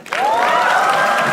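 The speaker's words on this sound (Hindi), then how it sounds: "सौरभ पांडे के लिए तालियां हो जाए एक बार।" An audience at a comedy roast show claps and cheers for a guest, a dense, loud burst of applause that swells quickly and holds steady.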